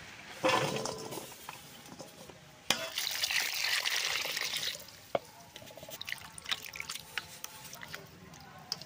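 Cut jol dumur figs are rinsed in water in a village kitchen, with bursts of splashing and sloshing followed by scattered drips and small trickles, quiet and close.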